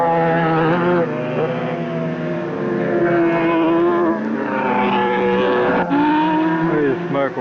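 Racing motorcycle at a wet 1988 superbike race at Manfeild, a loud engine wailing and rising through gear changes, several bikes' tones overlapping near the track, with a commentator's voice over the top.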